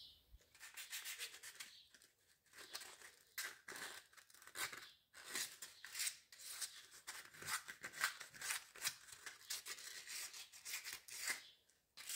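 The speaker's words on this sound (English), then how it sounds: "I'll just sand these ones back and paint these" Furniture parts from a stereo cabinet are sanded by hand, giving soft, close, rhythmic rasping strokes with brief pauses between them.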